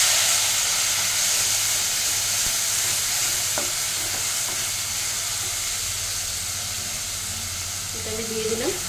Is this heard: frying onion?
yes